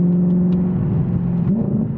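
An Audi R8 with a V8 engine and an aftermarket exhaust holds a loud, steady, deep drone, with a slight rise in pitch toward the end and no talking.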